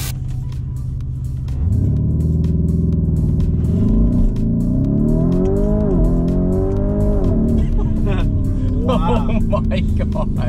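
A new Lamborghini Urus SUV launches hard, its engine roaring up through the gears with rising pitch sweeps and sharp shifts, loud and close from inside the cabin, while excited voices talk over it.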